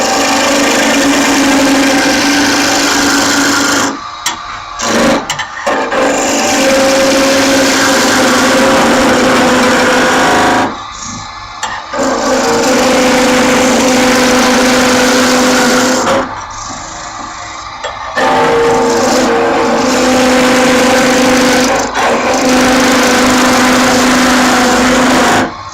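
A wood lathe turns oak while a skew chisel cuts it: a steady, close motor hum mixed with rough cutting noise, broken by several short pauses where the tool comes off the wood.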